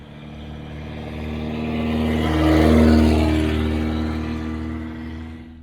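A 2026 Genesis G90 e-supercharged flagship sedan driving, its smooth tonal engine hum swelling gradually to a peak and easing off again, with no talking.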